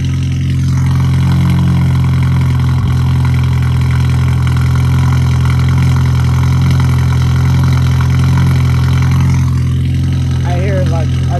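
A straight-piped car with no muffler idles loudly and steadily at close range, a deep continuous rumble with faint voices in the background.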